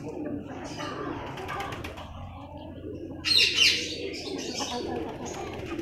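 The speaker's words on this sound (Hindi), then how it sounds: "हमने कबूतर भी खोले हुए हैं" Pigeons kept outdoors in cold weather, with backyard hens nearby, give soft chirps and coos over a steady low background, then a brief louder burst of wing flaps or calls partway through.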